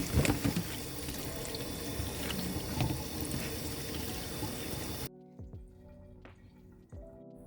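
Running tap water gushes and splashes while chipilin leaves are washed in a kitchen sink for about five seconds, then the flow stops and a few faint drips and clinks follow in near silence.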